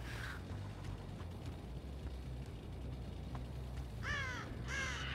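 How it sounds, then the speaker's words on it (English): A crow caws twice, loud and fairly close, near the end of a short stretch of low ambient rumble in the horror video game Dead by Daylight. "Might have been a crow or something like that."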